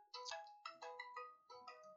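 A phone ringing with a melodic electronic ringtone: three short bursts of bright tones in quick succession, fairly faint and with no speech.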